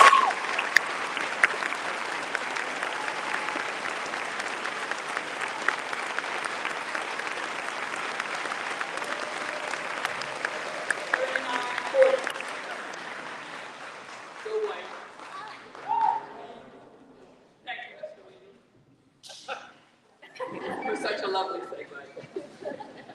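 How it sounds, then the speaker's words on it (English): An audience at a school gathering applauds a speaker returning to the stage, dense sustained clapping that fills the room for about thirteen seconds before thinning into scattered claps, light chuckles and quieter crowd sounds. "we clap 40 times as we welcome Christy Gravis back to the stage"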